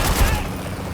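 Dense, loud rapid gunfire in the video game Haze forms a continuous rattling barrage with heavy low booms that ease off slightly after the first half.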